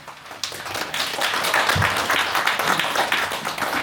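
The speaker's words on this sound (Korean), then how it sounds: "박수 주셨습니다" Steady applause from attendees at an annual general meeting after a budget report, dense clapping building in a second and holding evenly throughout.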